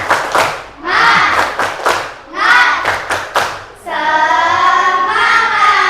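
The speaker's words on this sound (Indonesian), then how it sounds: "Sebelumnya tepuk semangat." A classroom of students performs a rhythmic spirit clap chant, bursts of loud unison clapping and shouting in patterned beats, then a sustained group chant or cheer near the end, close and energetic.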